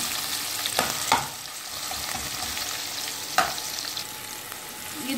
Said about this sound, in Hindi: अब हम इसमें जो ऑनियन लिए थे हम वो ऐड करेंगे। हम 1 मिनट ऑनियन को थोड़ा ट्रांसप्लांट होने तक पकाएंगे